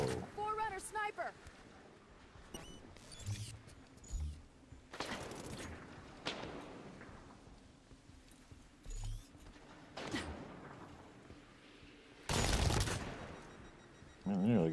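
Halo 5: Guardians firefight as a Forerunner sniper fires: sharp, loud energy-rifle cracks and bursts of gunfire spaced irregularly across the scene, with mechanical clanks and creaks between shots and a voice talking over parts of it.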